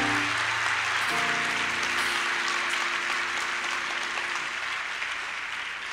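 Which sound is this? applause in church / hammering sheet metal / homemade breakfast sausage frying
applause in church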